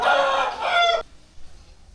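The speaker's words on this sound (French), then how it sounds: "Quel cri horrible ces coqs." A rooster in a village in Malang, Indonesia gives one loud, close crow that stretches for about a second and cuts off abruptly, leaving faint background quiet.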